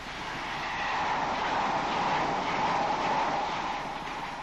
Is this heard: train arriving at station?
yes